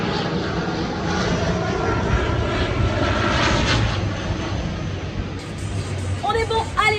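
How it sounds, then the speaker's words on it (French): A small airplane passing overhead, a loud, sustained engine drone that swells and then fades, with music and a voice coming in near the end. "on laisse passer le petit avion"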